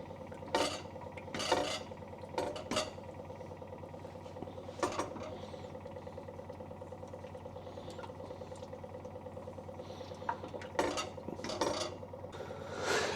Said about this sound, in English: Okay, so now let's just get all that mixed in there.